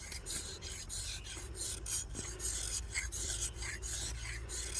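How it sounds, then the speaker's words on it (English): A knife blade scrapes slowly along a soft ferrocerium rod, giving a steady, close rasping drag in repeated strokes with brief pauses, no sparks struck and no voices. "We're going to scrape some of this ferrocerium off."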